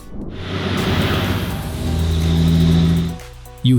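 A deep truck engine revs hard and steadily through chrome exhaust pipes, its throaty rumble climbing in pitch before cutting off abruptly near the end.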